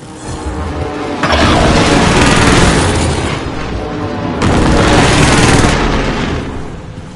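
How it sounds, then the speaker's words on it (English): Precision airstrike explosions in a military video game: two loud, heavy booms, each swelling into a long rumbling roar before fading. "Precision airstrike missed."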